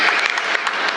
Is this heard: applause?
yes